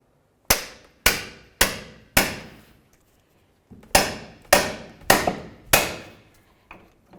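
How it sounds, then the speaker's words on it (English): A hammer strikes a pickle fork wedged into a lower ball joint on a 2000-2005 Buick LeSabre, with eight hard metallic blows in two quick groups and a short pause between them. "I'm going to use a pickle fork and my hammer."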